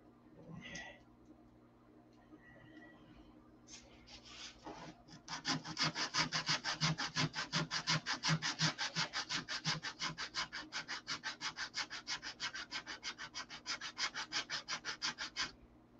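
Fast, even rasping strokes sand a clear plastic canopy for a P-47 scale model, following a few brief scrapes and handling noises, then running close and steady with a regular back-and-forth rhythm.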